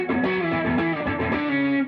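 Electric guitar played through a Big Joe Classic Tube stomp box pedal, giving a thick, fat, mildly distorted tone; a short phrase of several notes rings out alone, loud and sustained.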